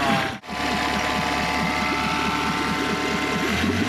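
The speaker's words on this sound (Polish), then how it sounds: "Silnik działa dobrze, reaguje na gaz." An outboard boat engine with a replacement CDI ignition module runs steadily and loudly up close, a continuous mid-pitched hum and rattle after a brief dropout near the start.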